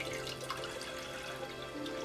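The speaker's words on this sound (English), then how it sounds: "we're going to start off by putting our water inside of our pan" One liter of water pours into a cooking pan for a lime-infused detox drink, heard as a steady, close splashing trickle with a faint tonal ring, continuous for a couple of seconds.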